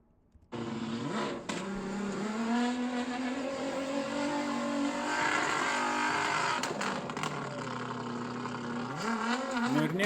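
A car stuck in desert sand on a Dakar fan expedition in Saudi Arabia revs hard and holds at high engine speed for several seconds, close and loud, with brief dips and a renewed surge.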